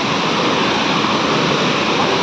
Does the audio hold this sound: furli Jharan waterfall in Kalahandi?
yes